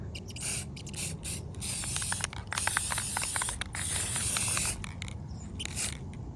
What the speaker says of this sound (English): We're going to use the Rust-Oleum Satin Clear, as usual.